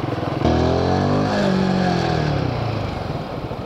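Motorcycle engine revving and pulling away on an off-road mountain track in the Himalayas, loud and close, pitch rising then settling into a steady drone for a few seconds.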